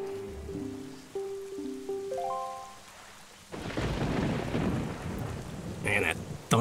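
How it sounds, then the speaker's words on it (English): Thunder and heavy rain in the video game Zelda: Wind Waker HD, a broad rumbling roar of rainfall swelling in partway through after a short rising musical figure, with a louder crack near the end. "Man, that thunder's awesome."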